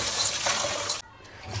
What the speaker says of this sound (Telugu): బాస్మతికి 2 సార్లు కడుక్కుందాం